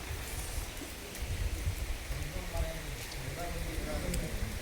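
Steady rain falling outdoors during a trip among waterfalls and temples, a continuous soft hiss with scattered drop ticks, fairly faint and even throughout.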